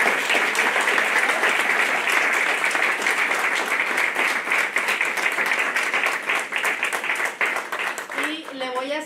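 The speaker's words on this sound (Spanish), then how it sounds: "Les pido un fuerte aplauso para estos." An audience at a public hearing breaks into loud, sustained applause that slowly thins out, and a voice starts speaking just as the clapping fades.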